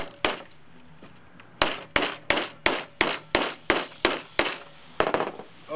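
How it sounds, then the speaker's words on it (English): A hammer drives a stake into the ground on a farm in Cleveland, Ohio: a single strike, a pause, then about a dozen sharp, evenly spaced blows landing close and loud. "we're going to hammer this in nice and easy"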